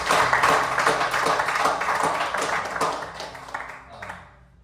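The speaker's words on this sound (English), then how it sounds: "Yes, please clap for that." Audience clapping at a living-room house concert in Southold, NY: a short burst of hand claps from a small group close by, tapering off after about four seconds.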